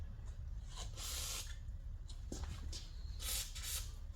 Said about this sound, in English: I'm going to do is go around and pretty much just hit up everything that I'm going to be taking off with a little bit of WD-40.